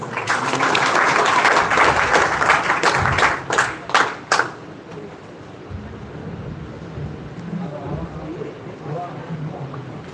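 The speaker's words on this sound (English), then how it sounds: "Everyone give a big round of applause for our respected speaker sir." A round of applause for a guest speaker at an engineering career guidance event: dense clapping from an audience for about four seconds, thinning to a few last claps, then a quieter room with murmuring voices.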